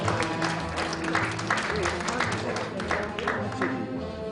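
An audience claps at an association's officer inauguration ceremony, a steady round of applause from many hands with a voice and background tones layered through it.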